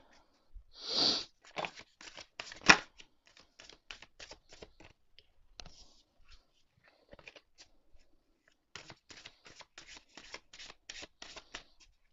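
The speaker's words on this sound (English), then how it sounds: "Very clumsy today with my shuffling." Tarot cards being riffled and shuffled in bursts of quick, crisp flutters, with a few soft slaps and pauses between passes, close and fairly quiet.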